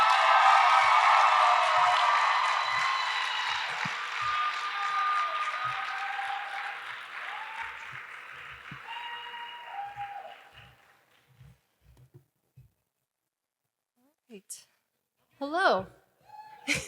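An indoor audience at a car wash company's employee appreciation event applauds to welcome an employee speaker to the stage. The loud, dense clapping fades over about ten seconds, followed by a few quiet moments and then a voice speaking.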